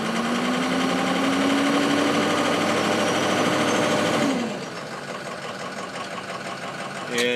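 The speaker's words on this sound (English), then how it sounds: "Okay, I can hear that it's running rough" Ford 6.0 diesel engine running rough, revved under throttle with a rising tone, then dropping back to a lumpy, uneven idle, loud and close.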